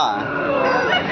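Roosters at a large aseel chicken market in Kundarapalli, Krishnagiri District, calling amid a dense, steady crowd din, with other fowl sounds blended into the constant background murmur.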